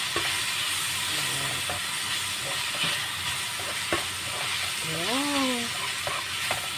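Onions dropped into a hot pan for pork mechado, sizzling and crackling steadily with scattered pops and stirring clicks, while a voice speaks briefly over the frying.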